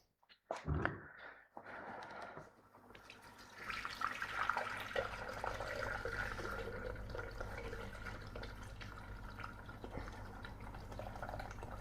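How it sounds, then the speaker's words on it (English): Water pours from a tap into the bowl of a Thermomix TM7 during a honeycomb recipe, a short splashing burst at first, then a steady hollow filling rush that runs on alone. "we're going to put our water in there"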